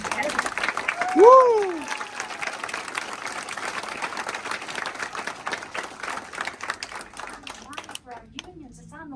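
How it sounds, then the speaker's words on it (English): Applause and cheering from an audience at a Women For Biden campaign kickoff event at an SEIU union hall, a dense steady clatter of clapping with a loud whoop near the start and talk mixed in. "I'm going to give you all a round of applause."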